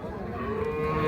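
A cow at a village cattle market gives a single drawn-out, close moo lasting about a second, with faint background noise.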